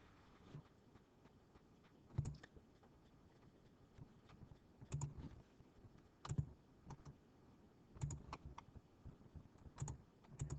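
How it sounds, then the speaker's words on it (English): Faint, sparse clicks of fingers tapping a calculator keypad, coming in small scattered clusters with quiet gaps in between. "Let's type that into my calculator."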